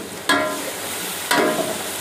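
Tomatoes and onions with green chillies frying in a pan for chicken biryani, a steady sizzle with two sharper stirring scrapes, close and moderately loud.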